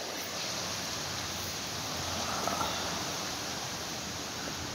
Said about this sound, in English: It's a little bit gusty, you know.